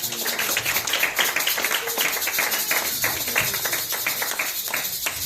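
A church congregation claps in praise of Jesus with a steady, rhythmic patter of many hands, joined by faint voices in the hall.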